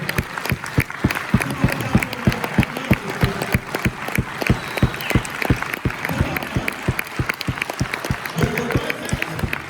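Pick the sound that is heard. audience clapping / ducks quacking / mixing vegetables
audience clapping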